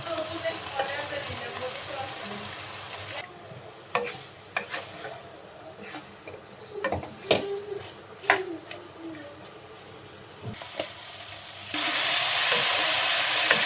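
A hog plum pickle with mustard oil and ground five-spice cooks in a pan, giving a soft sizzle and scattered stirring clicks that come close and fairly quiet, framed by louder frying noise at the start and end.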